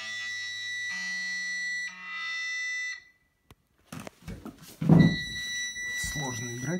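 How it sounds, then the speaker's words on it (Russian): An electric guitar is played through a processor's distortion effect, giving sustained buzzy distorted tones that cut off into near silence before returning with pick noise, and someone talks over the later part. "Здесь у нас эффект с дисторшеном."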